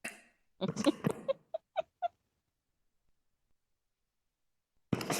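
A voice imitates a rooster's cock-a-doodle-doo in a short burst of clipped crowing syllables, close and loud, followed by a long silence before another voice cuts in.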